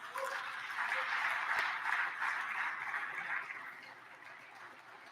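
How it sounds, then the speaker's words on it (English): Legislators on a state House floor applaud a retiring staff member, a dense sustained round of clapping from a large room that swells and then gradually thins out toward the end. "y'all give him another round of applause"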